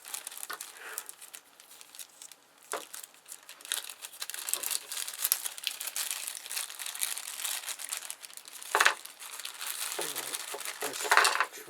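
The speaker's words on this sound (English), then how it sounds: "If I can get this bag open." Crinkly bag of waxy paper being opened around clock mainspring parts, with close, irregular crackling and rustling that swells in bursts, plus faint clinks and some speech alongside.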